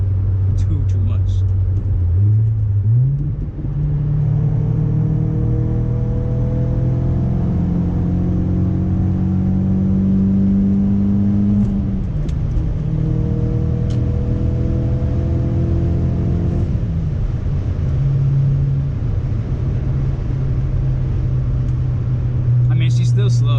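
Audi B6 A4 fitted with a full ECS catback exhaust, heard from inside during a night commute: a loud, steady engine drone rising in pitch through the gears, with a shift and renewed climbing revs, voices talking over it.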